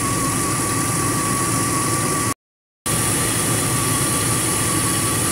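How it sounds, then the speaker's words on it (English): A 2002 Jeep Grand Cherokee AC compressor runs with a loud, steady engine-bay drone and hum, broken by one brief total dropout before the sound resumes unchanged; no talking. "I'm going to go ahead and go and turn the compressor back on"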